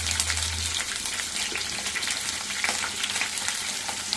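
Mustard seeds, cumin and green chillies fry in two spoons of hot oil, making a loud, dense, continuous crackling sizzle close by that runs without a break.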